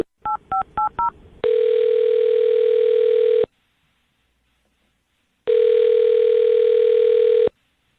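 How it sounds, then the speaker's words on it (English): Four quick keypad beeps dial out on a telephone during a radio morning show call, followed by two long, steady ringing tones separated by a silent pause, loud and clear. "I'm going to dial her phone number right now, okay?"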